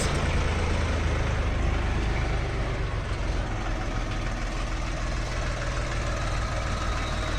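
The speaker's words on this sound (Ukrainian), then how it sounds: "Двигун трьохциліндровий КМ-385." A loud, steady three-cylinder KM-385 engine on a JINMA 244 tractor with cab idles with a rough, knocking rumble that stays constant throughout, with no voices.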